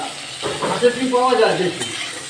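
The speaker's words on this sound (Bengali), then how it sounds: "ফুলকপিটা তুললাম ভেজে, এবার চিংড়ি মাছটা ভাজবো" Cauliflower fries in a pan on a home stove, giving a steady close sizzle broken by scraping stirs and a few louder clanks of the utensil.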